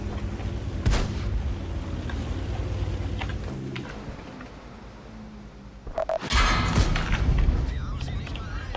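Tank cannon fire in World of Tanks during a Jagdpanther II match: a sharp boom near one second, then a louder, heavier blast with rumbling impacts around six seconds over steady engine drone.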